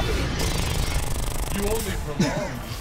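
A Gatling gun in the PlayStation All-Stars Battle Royale fighting game fires a fast, continuous rattle of shots that runs unbroken for about three seconds while someone talks over it.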